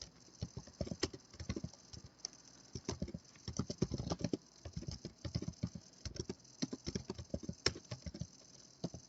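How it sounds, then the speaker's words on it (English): Quiet, close computer keyboard typing comes in irregular bursts of light tapping keystrokes with short pauses between runs, and nobody talks over it. "typing along."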